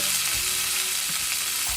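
Curry leaves drop into hot oil tempering with dried red chillies for a bitter gourd fry, giving a close, constant sizzle with faint stirring bumps underneath.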